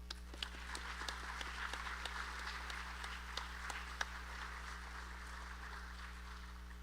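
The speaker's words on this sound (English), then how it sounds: "We can clap for them." Sparse, faint clapping from a church synod gathering, with scattered individual claps over a strong steady electrical hum and distant room noise.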